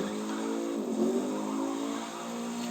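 Koenigsegg hypercar in the racing game The Crew 2, its engine droning steadily with a faint tire slide, continuous and fairly loud with no voices.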